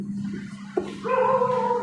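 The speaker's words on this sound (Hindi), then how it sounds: "हमारे गली में बहुत बड़े कुत्ते हैं, सब घूम रहा है, उसी का आवाज़ आ रहा होगा बैकग्राउंड में" Big dogs roaming a residential street bark and whimper in the background, a sharp yelp followed by a drawn-out whining howl, faint and distant against a low steady hum.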